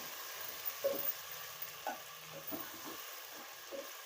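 Cauliflower, boondi and chana dal curry stirred in a pan, soft intermittent scraping and stirring strokes over a faint low sizzle.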